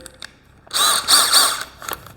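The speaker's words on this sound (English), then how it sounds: "we're going to go into this cylindrical diamond core cutting like blade" Diamond core bit drilling into porcelain tile with a power drill, a loud steady whine building after a brief quiet start and running for over a second before easing off.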